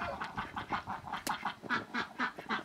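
Ducks quacking repeatedly in a snowy outdoor setting, a steady run of close, rhythmic calls overlapping one another with no talk.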